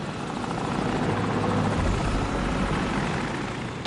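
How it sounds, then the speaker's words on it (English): An enemy helicopter in Call of Duty 4: Modern Warfare, its rotor thumping loud and close in a continuous steady drone with a low engine rumble. "Enemy helicopter!"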